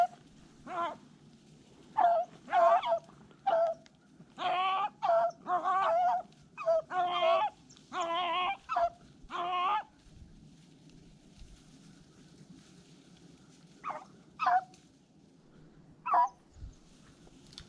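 Beagles baying on a rabbit chase during an early-season Pennsylvania hunt, a run of repeated yelping bays at middle distance, then sparser scattered cries fading out against a faint outdoor background.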